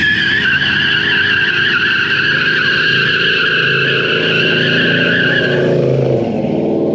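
Loud, sustained tire screech from a Mopar car burnout at a car show, with a high squealing whine over a roaring engine, tapering near the end.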